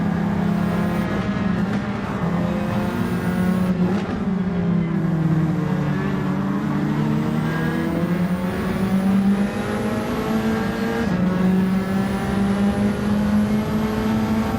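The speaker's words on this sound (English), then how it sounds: "Cars to the left of me, cars to the right of me." Several race cars in a racing video game roar along together in a bunched pack, one near engine droning steadily with rising and falling pitch as it shifts gears, with no talk.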